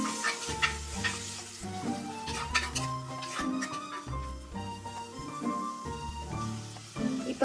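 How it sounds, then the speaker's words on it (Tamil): Onion, tomato, greens and green chili fry in a pan while a spoon stirs them, sounding as a steady close sizzle broken by regular scraping and clinking strokes against the metal. "நல்லா கிளறி விடுங்க."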